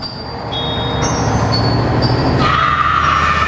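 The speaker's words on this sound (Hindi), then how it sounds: "तभी उन्हें ट्रक की आवाज सुनाई देती है।" A truck approaches in an animated horror story, a loud steady engine rumble with rising mechanical tones that swell and brighten midway, constant and close with no voices.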